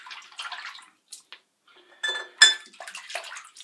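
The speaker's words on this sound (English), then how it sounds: "Rinse off again." Water splashes in short bursts as a face is rinsed after a wet shave, close, intermittent handfuls of water with brief pauses and drips between them.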